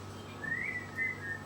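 A person whistles softly while cooking in a home kitchen, a faint high melodic line with a few sustained notes over low background hum.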